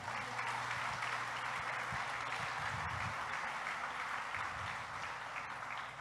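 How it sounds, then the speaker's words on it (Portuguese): A church congregation breaks into steady, dense applause, a loud, even wash of many hands clapping that lasts the whole stretch without speech. "dá uma salva de palmas para ele"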